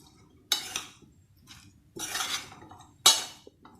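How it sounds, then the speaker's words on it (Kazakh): Salad ingredients being stirred in a bowl, three distinct bursts of scraping and clinking utensil against the dish with quiet pauses between, close and clear with no voices. "Енді жақсылап араластырып алуым қажет."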